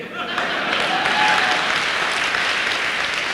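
An audience at a direct-selling business training seminar breaks into loud, steady applause that fills the room with dense clapping for several seconds.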